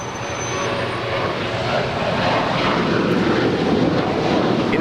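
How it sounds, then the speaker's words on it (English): An Alaska Airlines Boeing 737-800, fourteen years old, departs LAX with a steady, loud roar of jet engines that holds throughout without any break or letup. "That is Alaska Airlines Flight 342 departing to Loretto. It's a 14-year-old 737-800."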